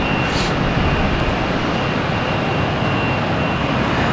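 A jet airliner, the Flying Banana, rumbles at Boston Logan airport at night as a steady, broadband engine roar with a thin high tone, continuous and fairly loud, no voices.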